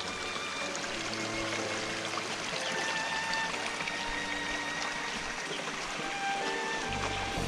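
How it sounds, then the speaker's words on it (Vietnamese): Water flowing and trickling at the source of a mountain stream at the foot of Cam Mountain in An Hao, Tinh Bien, a steady, close, continuous wash with no talking. "Nghe tiếng chảy róc rách ở đây nè."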